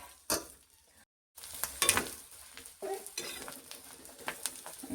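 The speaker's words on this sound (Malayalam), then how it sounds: "നല്ലെണ്ണയ്ക്കകത്ത് കിടന്ന് നല്ല രീതിക്ക് ഇതൊന്ന് മൂത്ത് വരുന്നുണ്ട്" Kanthari chilies and garlic fry in sesame oil for a kanthari pickle, a close steady sizzle broken by a few sharp scrapes and clinks of a spoon stirring the pan, with a brief silent gap near the start.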